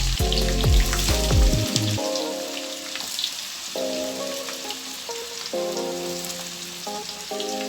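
White onions and garlic frying in a pan, a steady close sizzle and crackle like light rain, with faint stirring noises and intermittent tonal background sounds, no talk.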